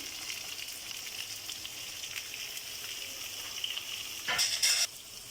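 Beetroot and other vegetables fry with chili powder in a pan, a steady close hiss of sizzling oil throughout, swelling into louder, sharper crackles near the end as the pieces are stirred.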